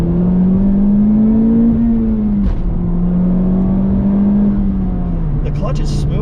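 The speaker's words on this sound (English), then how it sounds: "Let's do a nice second gear pull." A Honda Civic Type R FK8 pulls hard in second gear, its engine drone rising steadily up close inside the cabin. The note dips briefly midway, then climbs again under a continuous loud roar.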